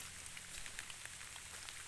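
Rain falls steadily outdoors in Meghalaya, a faint even hiss of drops with occasional soft individual patters.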